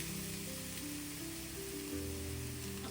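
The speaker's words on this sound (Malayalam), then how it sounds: "നമ്മൾ ചൂടായ എണ്ണയിൽ ഫ്രൈ ചെയ്യാം" Cheese bread pakora sizzles in hot oil, a steady dense crackle and hiss that runs evenly throughout with a low hum beneath and no talking.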